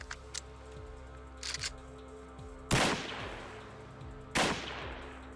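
Two loud, sharp rifle shots from an original Czech service rifle ring out about a second and a half apart, each trailing off in a broad echoing blast, with faint clicks and handling noises between them.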